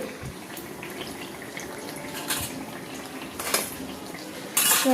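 Food frying in hot oil is flipped and stirred, giving a steady close sizzle broken by a few sharp metal scrapes and clinks of a utensil against the pan, with a louder clatter near the end.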